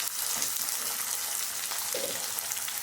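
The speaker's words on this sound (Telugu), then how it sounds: "ఆయిల్ హీట్ ఎక్కింది కదండి, ఇప్పుడు కొంచెం ఉల్లిపాయలు అండి, సన్నగా తరిగి పెట్టుకున్న ఉల్లిపాయలు, కరివేపాకు వేసేస్తున్నాను." Thinly sliced onions and curry leaves fry in hot oil, giving a steady, dense sizzle throughout with a few soft stirring clinks.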